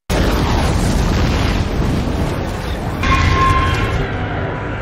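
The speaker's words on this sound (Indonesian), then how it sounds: "Akhirnya, Drasa menembakkan bahan peledak ke arah tanaman itu." Explosives fired at a monster plant set off a heavy, sustained boom that starts abruptly and rumbles on as a dense roar, with a second surge partway through. There is no speech.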